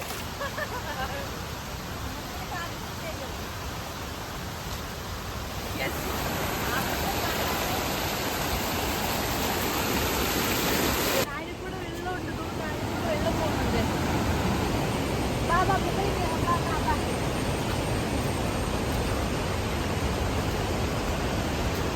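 Water rushing down Marmala stream at Vagamon, a steady broadband roar of flowing water that stays loud and continuous throughout, with faint voices mixed in at times.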